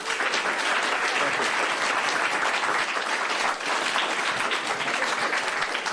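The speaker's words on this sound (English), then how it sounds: "please give him a round of applause." Sustained applause from a crowd, steady clapping filling the whole stretch without a break, loud and dense.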